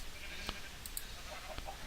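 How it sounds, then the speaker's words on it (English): A sheep in Minecraft gives a soft bleat against a steady background hiss, with a couple of faint clicks around it and no one talking. "So we can go ahead and spawn our sheep"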